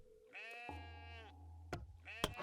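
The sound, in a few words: sheep bleating in the video game Masterplan Tycoon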